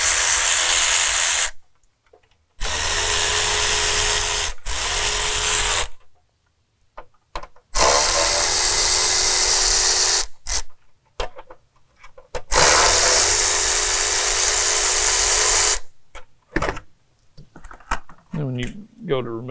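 Cordless power tool driving out the four bolts that hold the plastic EGR pipe cover on a Dodge Cummins 6.7L diesel engine, heard as loud, near bursts of whirring, each a few seconds long and separated by short pauses.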